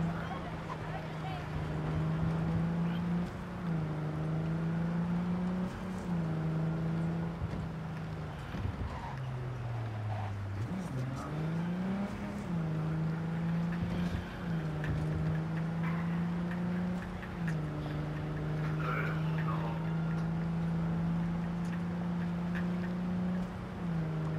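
A car in Cyberpunk 2077 drives along with a steady, droning engine hum that dips and swells in pitch as it slows and speeds back up.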